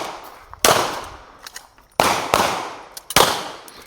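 Three sharp, loud pistol shots fired during shooting practice, spaced about a second apart, each with a quick decay, plus fainter clicks and handling noises between them.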